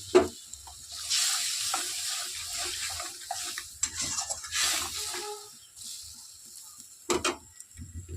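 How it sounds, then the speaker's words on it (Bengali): Rinse water from a mixer grinder poured into a simmering katla fish malai curry, a soft splashing pour and gentle bubbling with a few clinks of utensils, quiet and close. "এর মধ্যে দিয়ে দিচ্ছি যে মিক্সার গ্রাইন্ডারটা বেটেছি, তার জল একটু ধুয়ে"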